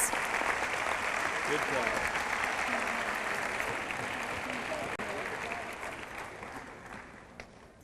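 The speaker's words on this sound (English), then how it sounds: "Let's give a big round of applause for all these students." Audience applauding students at a school awards ceremony, a broad sustained wash of clapping that slowly fades toward the end, with a brief spoken voice over it.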